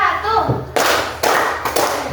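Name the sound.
schoolchildren clapping in class clap chant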